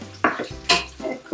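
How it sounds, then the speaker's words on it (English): Italian holiday pasta being stirred in a pan of sauce, heard as a few quick close scrapes and clacks of a utensil against the pan with a soft sizzle beneath. "And then we're gonna be stirring it."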